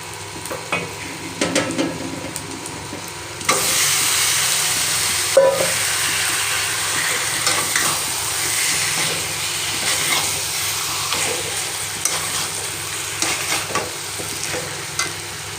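Chicken fried in spice masala and oil, with a steady loud sizzle that swells after a few seconds and continues under irregular stirring scrapes and clinks, close to the pan, no talking.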